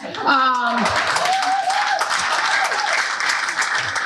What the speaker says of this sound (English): So he should get a round of applause just for that.